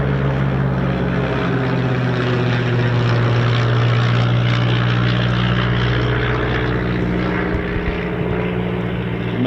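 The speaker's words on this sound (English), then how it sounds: "Typhoons" Eurofighter Typhoon FGR4 jets passing overhead in a loud, continuous roar with a steady low drone throughout, no break in the sound.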